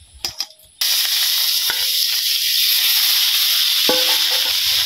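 Pieces of katla fish hit oil in a very hot wok and burst into a loud, continuous sizzle after a few clinks, the hiss holding steady with occasional utensil taps.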